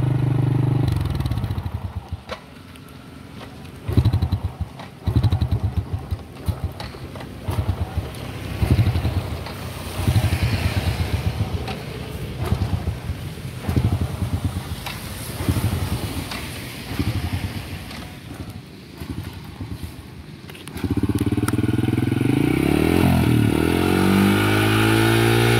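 A small motorcycle with a carburetor flooded by rainwater sputters to life on a rural village road, its engine turning over in uneven bursts before settling into a steady, louder idle and revving near the listener.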